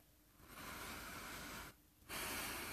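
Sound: deep breathing

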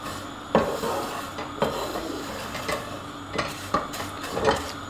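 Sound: spoon stirring vermicelli frying in a pan

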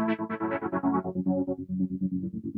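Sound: synthesizer stereo detune effect on oscillators

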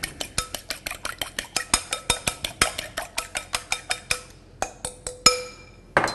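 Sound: whisking three eggs in a bowl

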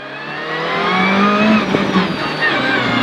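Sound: Renault Clio rally car launching on a rally stage

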